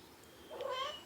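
A single cat meows once in a home where several cats are being fed, a faint, short call rising out of a quiet room.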